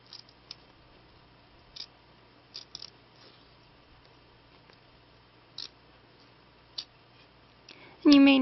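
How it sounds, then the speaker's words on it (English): Small scissors snip through beading stitches on a bead-embroidered headband, giving sparse, quiet clicks spread over several seconds, with a louder burst of sound right at the end. "I'm using a smaller pair of scissors"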